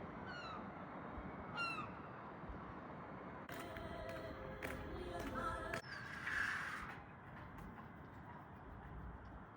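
Juvenile seagulls hatched in 2024 at Bridlington harbour, with the fishing fleet tied up nearby, give a few sharp, rising calls at moderate distance over steady outdoor ambience and wind, with clanking harbour mechanisms midway.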